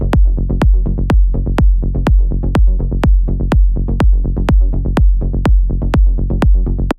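A punchy electronic kick drum layered under a deep bass line thumps in a steady four-on-the-floor pulse, loud and upfront, each hit backed by sustained low bass tones, with no voices.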